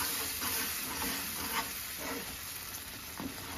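Gurudwara-style kada prasad, a wheat-flour (atta) halwa, cooks in a pan with a constant close sizzle and soft repeated scraping stirs, no voices.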